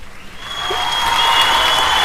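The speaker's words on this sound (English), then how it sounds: "Let's give this guy an applause." Canned applause from a studio sound-effect button, fading in over the first half second and then holding as a steady, loud wash of clapping and light crowd noise, with no talk over it.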